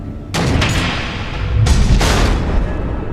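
Missiles explode in the Batman Telltale video game, two heavy booming blasts in quick succession, loud and close, followed by a rumbling tail.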